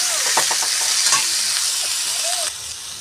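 Softened onions with salt and turmeric stirred in a frying pan, giving a steady close sizzle with scraping strokes from the spatula throughout, and no voices.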